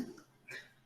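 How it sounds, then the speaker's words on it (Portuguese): A single short, muffled cough from a person on a night-class lecture, quiet and close, followed by a faint breathy tail. "Estou tossindo aí no ouvido, talvez de alguns que estiverem de fone."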